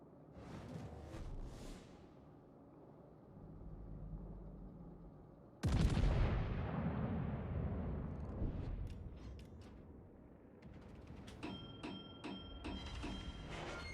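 Heavy gunfire and booming blasts from a naval warship battle game: scattered shots open, then a sudden loud explosion lands midway and rumbles down, followed by more crackling fire and sharp bursts.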